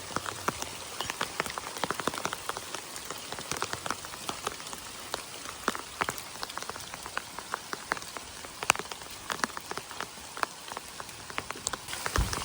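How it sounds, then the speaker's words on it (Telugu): Heavy evening rain on a farm during the first summer shower, a dense continuous patter of drops striking surfaces nearby, steady throughout with no voices. "వర్షం చాలా గట్టిగా పడుతుంది."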